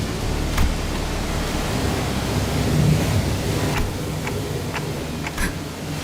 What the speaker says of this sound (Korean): 파도와 접촉까지 15초.